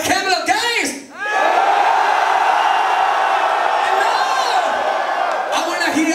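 A concert crowd at a live show in Montreal screams and cheers in a loud, sustained roar after a brief shouted voice from the stage, the din holding steady for several seconds.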